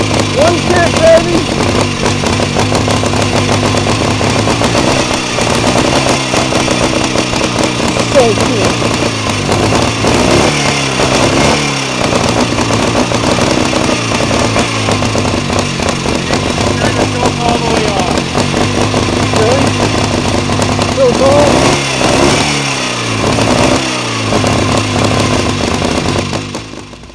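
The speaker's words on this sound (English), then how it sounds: "So just a touch of throttle and then a kick." A 1928 Scott Flying Squirrel two-stroke motorcycle, kick-started with a touch of throttle, settles into a loud, close, rapid popping idle with irregular throttle blips, someone talking intermittently over the engine.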